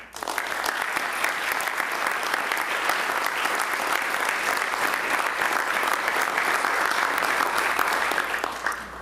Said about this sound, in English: I wanted to give him a round of applause